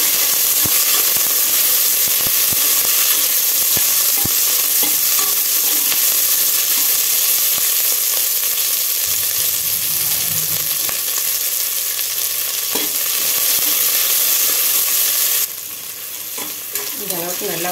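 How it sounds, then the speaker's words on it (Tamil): Chopped small onions (shallots) sauté in a pan for a Kongunadu-style rice and lentil one-pot dish, with a loud continuous sizzle and hiss and occasional stirring scrapes, alone with no voices and dropping off near the end. "சின்ன வெங்காயம் பொடியை கட் பண்ணி வச்சுருக்கேன், அதையும் போட்டுக்கலாம். இது நல்லா வதக்கிக்கலாம்."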